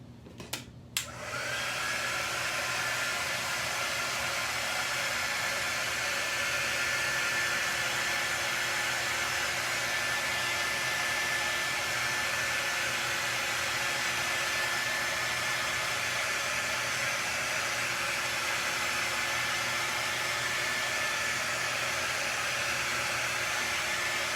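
After a couple of sharp clicks, a hair dryer switches on to dry chalk paste on a stencil, then blows with a steady, loud, close whooshing hum that holds unchanged to the end.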